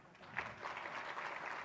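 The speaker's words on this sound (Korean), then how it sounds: "이런 정도에서 박수 한번 쳐주시면 안 되나요?" An audience at a talk gives a short round of applause, rising quickly from quiet into a soft, steady patter of many hands at a moderate distance.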